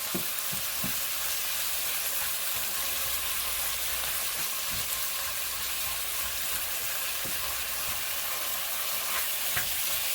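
Shrimp frying in a pan for a curry chicken and shrimp pasta Alfredo, a steady close sizzle throughout with a few soft scraping stirs and taps of the utensil, no talk.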